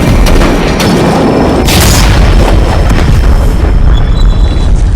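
A booming explosion effect for a blast of black wind in a Filipino action-horror audio drama, loud and sustained for five seconds with a rumbling low end and a sharp burst partway through.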